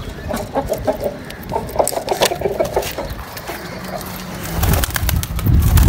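Pigeons in a loft, a mix of soft cooing and clucking calls over rustling and flapping, with a louder burst of noise toward the end.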